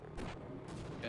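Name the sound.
SMG grenade launcher firing in Half-Life video game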